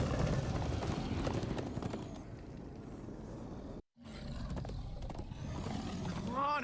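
Horses gallop in Minecraft: Story Mode, a dense rhythmic clatter of hooves under loud game action and music, cutting out briefly partway before resuming just as loud.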